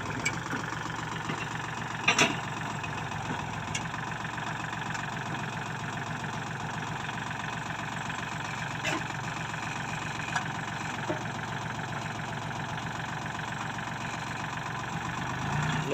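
Kubota L3608 tractor with a three-cylinder direct injection diesel engine idling steadily, a constant low rumble with a few faint clicks, close and alone.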